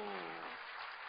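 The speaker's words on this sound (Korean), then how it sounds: "박수 박수." At Sarang First Church in Korea, the congregation breaks into a dense round of clapping just as a voice trails off at the start, and the applause continues steadily to the end.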